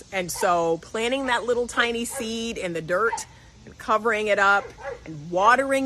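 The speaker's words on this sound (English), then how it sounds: "My dog is barking at somebody." A house dog barks now and then in the background while someone talks steadily in the foreground.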